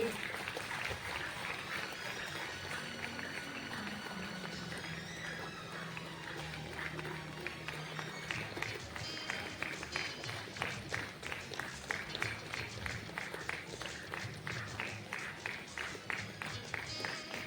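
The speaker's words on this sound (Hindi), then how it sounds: "तो उनके लिए तालियां बजती रहनी चाहिए" An audience at a Birsa Munda birth anniversary celebration applauds a girls' team's trophy win. Scattered applause under talk and background noise settles into loud, steady rhythmic clapping over the second half.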